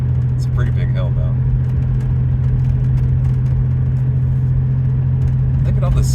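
A small two-wheel drive pickup truck climbs a steep mountain highway in the Eastern Sierra, its steady engine drone and road rumble heard from inside the cab while people talk over it.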